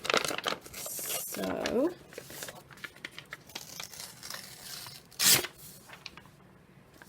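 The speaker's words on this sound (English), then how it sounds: "So the next thing we do is rip the edges." A magazine page is ripped along its edges up close in a quick burst of tearing and crinkling paper, followed by one loud tear, while a person talks over parts of it.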